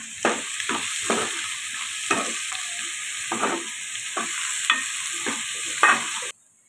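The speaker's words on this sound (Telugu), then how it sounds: "ఉల్లిపాయలు త్వరగా మగ్గాలంటే కొద్దిగా సాల్ట్ వేసుకొని ఫ్రై చేసుకోవాలండి. ఇప్పుడు కలుపుకొని ఉల్లిపాయలు మగ్గించుకోవాలండి." Onions frying with a pinch of salt in a pan, stirred with regular scraping spatula strokes over a continuous sizzle, close up, ending abruptly.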